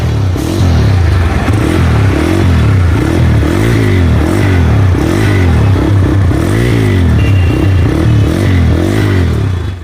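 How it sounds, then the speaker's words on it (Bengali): A TVS Raider 125cc motorcycle exhaust, very loud and close, with a steady low engine thrum rising and falling in repeated revs, no speech. "টিভিএস রাইডারের সবচেয়ে ইন্টারেস্টিং পার্ট হচ্ছে এটার এক্সস্ট সাউন্ড।"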